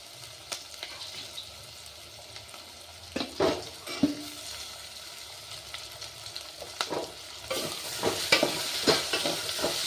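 Vegetables, tomato and curry leaves cooking in a pan for upma, with a steady sizzle broken by spatula scrapes and clanks, growing louder and hissier toward the end.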